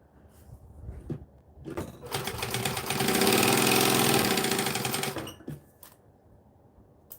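A sewing machine runs fast in one sustained burst of about three seconds on leather, its whir rising and fading, with brief clicks before and after.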